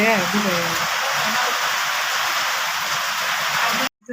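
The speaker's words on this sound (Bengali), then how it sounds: "আর আজকে বৃষ্টি" Steady rain pours down around a village home, a dense, even hiss that holds for about four seconds before cutting off abruptly. A brief voice-like tone sounds at the very start.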